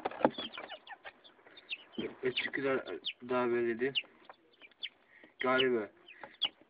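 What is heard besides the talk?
young chickens and roosters clucking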